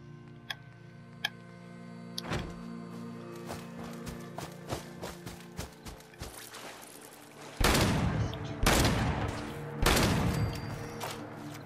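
Several sharp gunshot cracks from a Gauss rifle in Fallout 4, scattered bursts of loud, broadband blasts with game ambience and ticking sounds between them, ending in a denser cluster of heavy shots.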